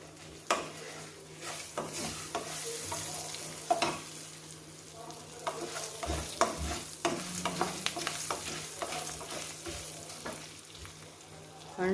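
Curry leaves and ginger pieces fry and sizzle in a pan of hot oil for a yam gravy, with a steady crackle broken by sharp spits and stirring scrapes, close and moderately loud, no voices.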